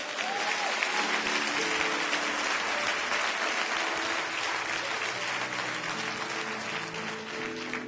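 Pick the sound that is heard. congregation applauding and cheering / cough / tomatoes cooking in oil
congregation applauding and cheering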